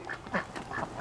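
Ducks quack nearby in short nasal bursts, several calls overlapping in quick succession.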